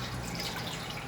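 Water runs steadily into the waterbed of an Ultimate 7.0 grill pit, a continuous close trickling and dripping wash with no talk.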